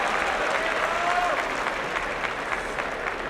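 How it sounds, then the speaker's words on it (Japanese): A sumo arena crowd at the Kyushu tournament applauds a win by Hiradoumi, broad sustained clapping from a large audience filling the hall, steady and moderately loud throughout. "大きな拍手に包まれました。"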